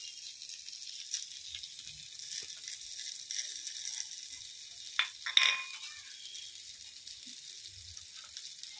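Turmeric and spices are stirred in a frying pan: a quiet, low sizzle sits under sparse scraping, with one sharper clatter of the spoon against the pan near the middle.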